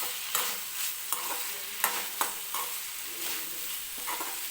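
Cauliflower and pea curry with coriander being stirred in a pan: a soft continuous sizzle under repeated spoon scrapes and clacks at an irregular pace, close by, with no talking.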